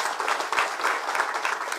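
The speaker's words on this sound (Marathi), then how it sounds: "जयाभाऊंच्यासाठी जोरदार टाळ्या वाजवा" Outdoor political rally crowd applauding for Jayabhau after heavy rain, a brief, even patter of many hands clapping, fairly soft and steady.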